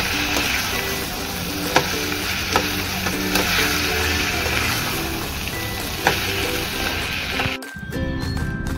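Ambadi (gongura) leaves cooking in a pan, with a continuous close sizzle and repeated spoon stirs and clinks over several seconds, ending in a brief cut before the sizzling resumes; no one talks.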